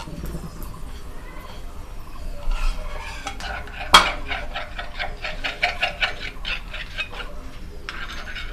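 Whole cumin, whole garam masala and yogurt with dry spices tipped into hot oil in a pan, a bright sizzle swelling after a sharp clink of utensil on metal, with scraping and stirring and a faint voice.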